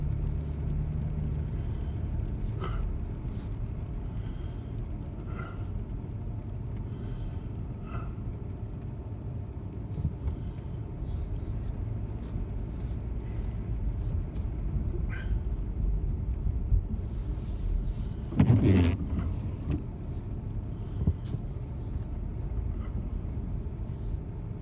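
Steady low engine rumble of a truck idling, heard from inside the closed cab on a snowy, sleety day, continuous and even, with a brief louder creak or squeal near the end.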